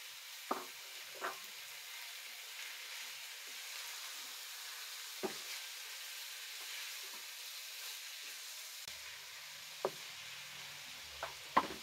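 Minced keema frying with lightly browned onions in a pan gives off a steady, faint sizzling hiss, broken by a few sharp clicks and scrapes from stirring.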